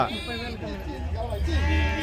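Several sheep bleat in wavering, nasal calls at a sheep market in Gudur, close by and fairly loud, while people talk over them.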